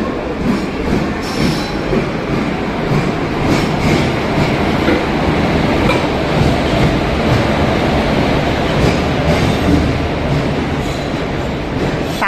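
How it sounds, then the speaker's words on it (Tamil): A passenger train from Tiruchendur to Vanchi Maniyachi pulls away from the platform with a loud, continuous rumble of wheels on rails and faint squeals and clatter, no voices. "ட்ரெயின் டிபார்ச்சர் ஆகி போயிட்டுருக்கு."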